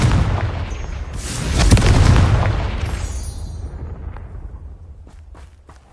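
A Confringo spell blast in Hogwarts Legacy bursts out loud with a rumbling boom that swells around the two-second mark, then slowly decays into a fading rumble, with a few faint clicks near the end.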